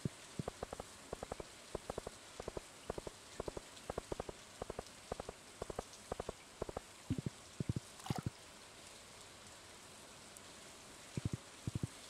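Steady rain falls in the Stardew Valley farming game, a soft hiss spread across the whole stretch, broken by rapid clusters of small tapping footstep-like clicks and a brief whoosh near the end, with no talking.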